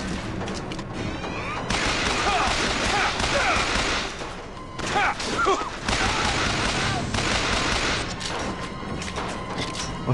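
Gunfire from the video game Bioshock Infinite: rapid shots and crashing impacts keep coming over a dense combat din while a player talks over the action.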